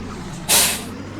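A truck hauling a trailer of hay bales lets out one short, loud burst of air-brake hiss over a low idling rumble.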